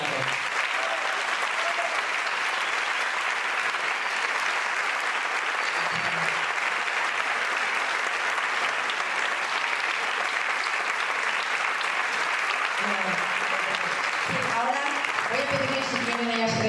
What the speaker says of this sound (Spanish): Os pediría un aplauso para Amparo.